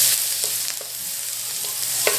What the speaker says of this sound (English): We will saute the onion.